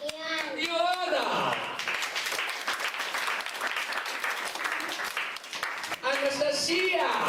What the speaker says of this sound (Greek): εσείς χειροκροτάτε τα παιδάκια που χορέψανε